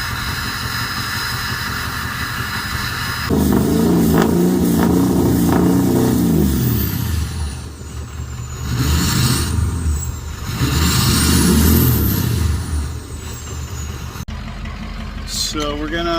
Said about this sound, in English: I love the sound of this turbo already. It's just a stock turbo.